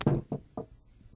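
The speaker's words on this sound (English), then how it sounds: "Don't go knocking on folks' door today." Knuckles rap on a door three times at a steady pace, close by, each knock a dull thud that grows a little softer.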